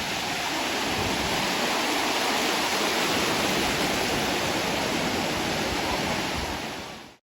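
Sea waves roar steadily at Digha beach at night, a loud, continuous broadband surf wash with no talk, cutting off abruptly at the end.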